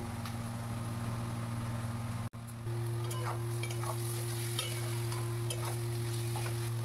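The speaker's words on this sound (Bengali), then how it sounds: "এবার নারকেল কোড়া মিশাচ্ছি।" Grated coconut being stirred into poha pulao in a pan: soft, irregular scraping strokes over a steady low hum and a faint sizzle, with no one speaking.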